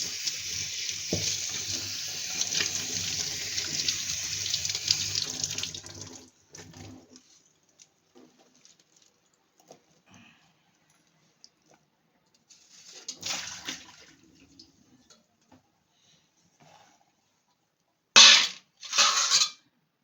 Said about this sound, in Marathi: त्या आपण जरा धुवून घ्यावं कारण बराचसा कचरा आहे त्यांना त्यामुळे दोन तीन वेळा धुवून घ्या चांगली